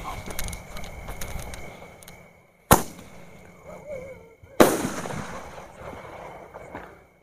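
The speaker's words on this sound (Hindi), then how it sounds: "जलाते हैं सुप्रीम के पेंटा फोर्स के पेंटा ग्रीन को" Supreme Penta Force green penta shot firework launching outdoors, with two sharp loud bangs a couple of seconds apart, each trailing off into crackle and fizz, amid low background rustle and no speech.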